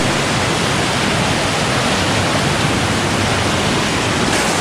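A mountain river on a steep trail toward a waterfall on the slopes of Merbabu rushes loudly and constantly, a dense, unbroken roar of flowing water close by with no pauses.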